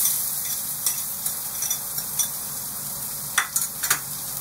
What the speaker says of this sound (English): Let's throw the onions in there.